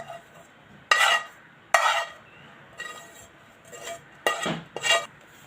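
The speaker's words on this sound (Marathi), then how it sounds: "आता हे सर्व मिक्स करून घेऊया हाताने पिठामध्ये मेथी पूर्णपणे मिक्स करून घ्यायचे" Roasted fenugreek being mixed into flour by hand in a bowl: several sharp rubbing and scraping bursts at irregular intervals, close and fairly loud, with quiet gaps between.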